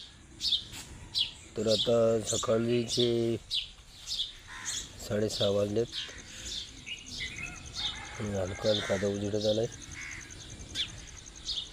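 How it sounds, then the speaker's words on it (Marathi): Birds chirp and tweet steadily around a mango garden at dawn, with bright repeated calls near and far, while someone talks over them in several stretches. "पक्ष्यांचा किलबिलाट पहा।"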